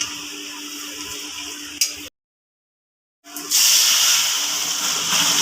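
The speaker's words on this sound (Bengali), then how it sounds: "এখন দিচ্ছি তেল, বাগার দিব। দিলাম পেঁয়াজ, রসুন" Onion and garlic hitting hot oil to temper lentils with bottle gourd and tomato, a steady hiss and sizzle that cuts off abruptly for about a second, then returns louder and brighter.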